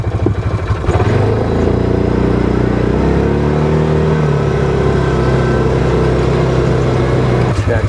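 A 2024 Massimo T Boss 550 UTV engine running in high range in Tennessee hill country, a loud droning note that climbs in pitch as it accelerates, then holds steady, close up with heavy rumble.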